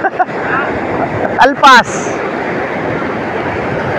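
Choppy ocean waves washing steadily at a fishing spot, with wind buffeting the microphone and a brief spoken exclamation early on.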